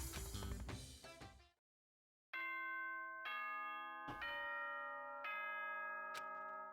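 A chime announcement from the Danganronpa: Trigger Happy Havoc video game: music cuts off into a short silence, then four clear, sustained bell-like chime tones ring out one after another, loud and close, with no voices.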